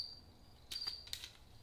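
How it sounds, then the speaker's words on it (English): A single cricket chirps in a steady, high, thin trill, joined by a couple of brief bright rustles near broadhead test shooting, with no one speaking. "This cricket needs to shut up."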